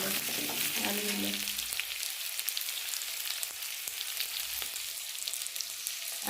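Potatoes fry in mustard oil in a home kitchen pan, a steady close crackling sizzle with occasional stirring clinks and a brief low murmur near the start.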